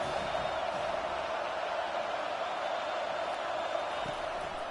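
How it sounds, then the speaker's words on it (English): A home crowd at a football game roars steadily through a third-down defensive stand, a dense continuous wash of cheering and noise with no clear individual voices. "Here comes this home crowd as the defense tries to get off the field on 3rd down"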